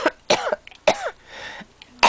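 A person with respiratory distress coughs in several harsh, close bursts spaced across a couple of seconds, with a throaty, rasping quality and brief pauses between.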